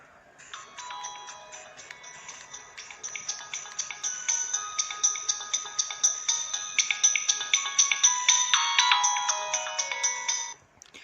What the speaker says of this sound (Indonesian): Nah, ringtone-nya.